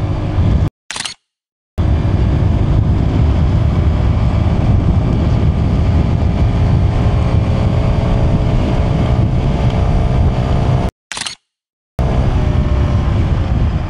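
A 110cc Hero Xoom scooter accelerates hard from standstill to 60 kph, a continuous buzzing engine drone with rising pitch and wind rush, broken by two brief dropouts.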